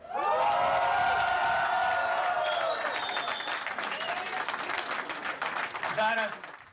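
Applause and cheering fill an election headquarters as confetti falls, a dense crowd roar that holds strong, then thins slightly, with voices and whoops rising over the clapping.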